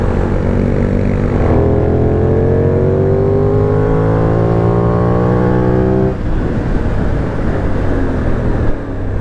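A Benelli 752S motorcycle is ridden hard, its engine revving loud and close with a rising, tonal drone held in one gear that climbs for several seconds before the pitch drops and the revs settle.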